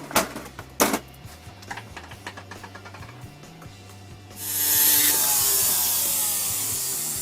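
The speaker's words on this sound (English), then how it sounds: "cut the old tube off." Old metal tube being cut off a piece of jewelry during a repair, heard as a steady close rasping, sawing scrape that gives way to a louder, bright hissing burst near the end.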